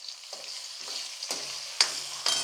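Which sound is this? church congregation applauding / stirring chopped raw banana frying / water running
stirring chopped raw banana frying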